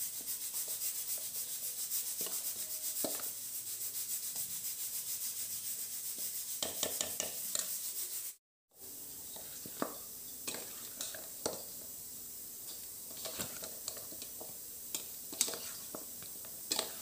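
Raw tamarind chicken pickle mixed by hand gives soft, faint rubbing and squelching scrapes, a quiet continuous texture with brief sharper clicks and a short silent gap midway.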